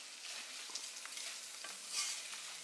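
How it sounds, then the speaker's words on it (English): Rice being stir-fried with achiote in a pan, a steady soft sizzle with faint scraping and stirring clicks throughout, fairly quiet and without talk. "And we stir fry that."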